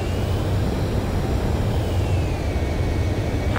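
Jet engine of an ADFX-01 aircraft in Ace Combat 7, heard during a landing approach as a steady, loud roaring whir with a faint rising tone, continuous and without talk.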